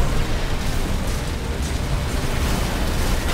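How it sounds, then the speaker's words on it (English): An explosion in the Armored Core 6 video game during player-versus-player mech combat, a loud, dense, continuous roar of blasts and rumble that holds steady throughout without any talking. "Boom. There we go. Explosion, I see."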